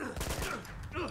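Gunfire in the video game Uncharted 2, a rapid close burst of shots crackling in quick succession over about a second.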